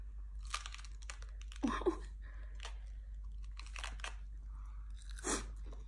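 A child bites and chews crunchy raw vegetables such as bitter neem shoots, with a string of loud, close crunches and bites between quieter chewing over about six seconds and no talking.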